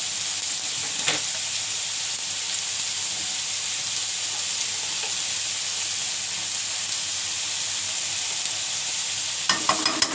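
Ginger-garlic paste frying with onions in a pan for chicken liver curry: a loud, continuous hiss and sizzle throughout, with a couple of brief stirring clatters near the start and end, and no talking.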